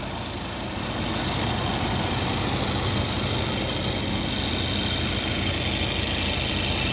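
A 2002 Suzuki Katana GX engine idles steadily with a low, continuous rumble, close and loud, with no talk over it.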